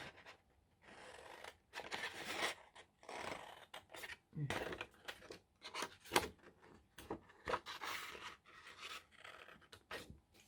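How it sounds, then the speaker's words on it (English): Large scissors cutting paper while making junk-journal jeweler's envelopes: close, crisp rasping snips and slicing strokes arrive in irregular bursts with short pauses between, some longer drawn-out cuts, all at a fairly soft level. "Use my big scissors again."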